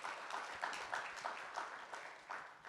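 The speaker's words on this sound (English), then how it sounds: "that calls for a round of applause for all of us sitting here" An HR gathering in Chennai claps for itself, moderately faint applause with audible individual claps pulsing in a loose rhythm throughout.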